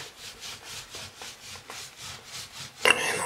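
Repeated rubbing strokes scrub a bathroom floor clean during a toilet replacement, a steady back-and-forth rasp of about nine even passes, close and moderately loud, ending in a brief sharper scrape.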